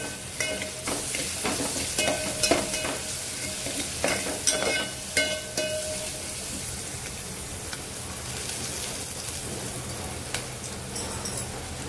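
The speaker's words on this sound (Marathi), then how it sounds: "छान भाजून घेऊया, तेलावरती चांगली परतून घेऊया." Ginger, garlic and chili paste sautéing in hot oil with onions, a close, steady sizzle with repeated clinks and scrapes of a spoon stirring in the pan.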